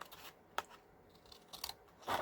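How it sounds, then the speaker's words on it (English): Scissors trimming paper around a floral journal piece make a few sharp, separate snips and rustles, quiet and close with gaps between cuts and no talking. "I'm just gonna grab my scissors here and trim around it."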